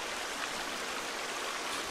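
Steady hiss of water flowing down from above in The Forest video game, a constant broadband rush like a small waterfall, even in level and uninterrupted.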